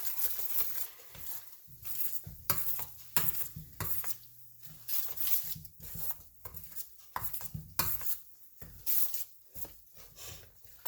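Handvo batter with a little Eno and water is stirred gently in a pan, producing soft intermittent scraping and sloshing strokes in irregular bursts with quiet pauses between them.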